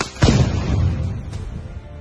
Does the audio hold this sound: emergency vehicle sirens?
no